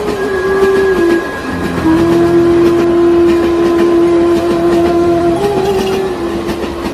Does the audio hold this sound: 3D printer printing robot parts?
no